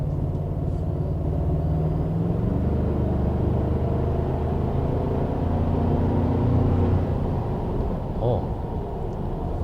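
A Toyota Tacoma TRD Sport 4x4 pickup in sport mode gives a steady low engine rumble and road noise that swells slightly as it accelerates, heard from inside the cab without talk over it.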